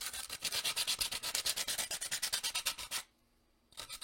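Heavy sandpaper scrapes back and forth in a fast, even rhythm of close, raspy strokes, stops briefly, then starts again.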